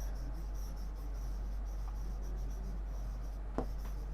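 Pen or pencil writing on paper during a class 6 maths lesson, a steady faint scratching with soft strokes and one sharper tap near the end, alone without talk.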